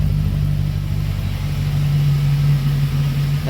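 A Jeep WJ V8 with a newly fitted muffler idles steadily nearby, a deep, even low rumble holding throughout with no voices over it.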